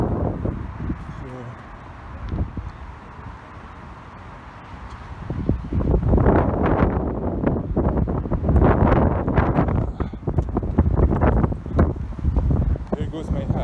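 Gusty wind buffets the microphone outdoors, rising and strengthening into heavy rumbling bursts, with a person talking underneath.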